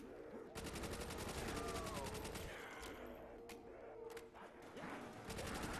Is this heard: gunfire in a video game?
yes